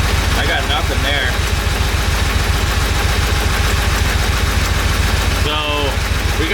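A Porsche 911 idles rough with pulled spark plugs, its loud, continuous low chugging broken by an irregular stumble, with voices talking briefly over the running engine.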